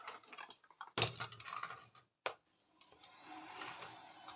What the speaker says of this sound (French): Vous entendez le bruit de l'aspirateur, je pense.